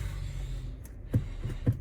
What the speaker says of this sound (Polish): Silnik się uruchamia